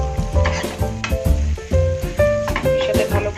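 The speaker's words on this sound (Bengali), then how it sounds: "এবার এটাকে আস্তে আস্তে আমি মাছের তেলের সাথে পেঁয়াজ লঙ্কা কুচি আস্তে আস্তে আমি ভাজা ভাজা হতে দেব" Chopped onion and green chili fry in fish oil, a loud, steady sizzle broken by repeated scraping and clanking stirring strokes against the pan in an irregular rhythm, with no talking.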